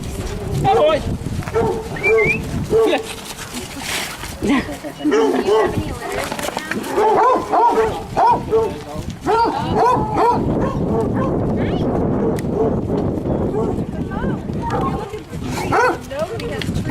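Many dogs, including hounds, bark and yip in overlapping bursts at close range, with whimpers mixed in, while people talk excitedly over them.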